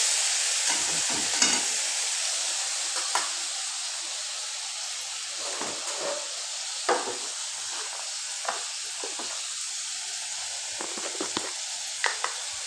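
Onion, garlic and ginger paste fry in hot oil in a wok for ghugni, a continuous loud hiss and sizzle with scattered scraping stirs throughout and no voices.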